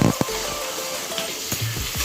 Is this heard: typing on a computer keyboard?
no